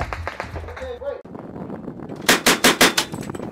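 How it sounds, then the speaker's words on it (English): Amphibious assault vehicle weapons at a Marine Corps live-fire range at Camp Pendleton: voices talk at first, then a quick rhythmic string of loud, sharp shots rings out. "I'm gonna go ahead and shoot."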